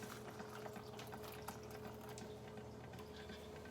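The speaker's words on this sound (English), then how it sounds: "now we are going to dump in our hot liquid" Hot liquid poured into a Trailtopia banana oatmeal pouch, a steady close pouring and filling wash running continuously without talk.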